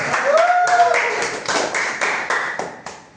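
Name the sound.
class clapping hands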